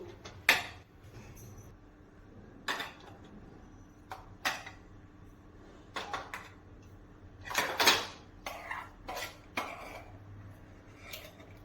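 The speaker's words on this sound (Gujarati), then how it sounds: "હવે આ મિશ્રણને આપણે ગેસ બંધ કરીને એક વાસણમાં કાઢી લઈશું" Intermittent metallic clinks and scrapes of a utensil against a metal pot as a cooked rice and milk mixture is transferred, with scattered knocks and pauses in a quiet kitchen.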